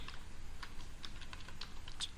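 Keys tapped on a computer keyboard, soft irregular clicks spread over a couple of seconds, quiet and close over faint background hum with no talking.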